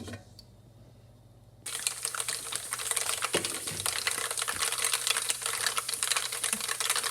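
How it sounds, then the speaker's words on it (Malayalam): Mustard seeds pop in hot oil for a Kannur-style kuttu curry, a dense, rapid crackle of tiny clicks that bursts in after a quiet start and keeps going, close and loud. "നമ്മുടെ കടുക് പൊട്ടി വരുന്നുണ്ട്."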